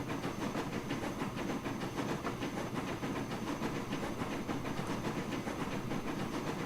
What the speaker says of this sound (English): And it's a nice looking train, but it's a bit on the sluggish side.